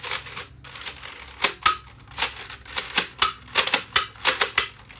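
Nerf pump-action drum blaster fired repeatedly, each shot a sharp, close pop, about a dozen in quick succession with brief gaps between them and no talk.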